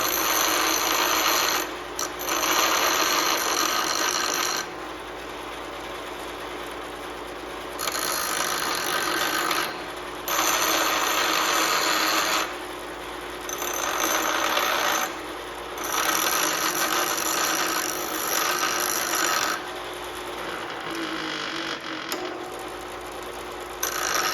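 Power grinding on a front brake part during a brake job on a 2018 Chrysler Pacifica, a loud raspy whine coming in several bursts of a few seconds each with brief quieter pauses between, no talking.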